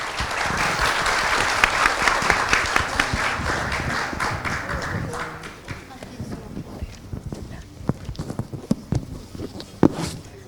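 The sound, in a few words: audience applause for symposium panel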